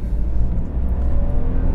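The engine of a BMW E90 328i sedan runs with a steady, deep low rumble heard close up from inside or beside the car, with no talk over it.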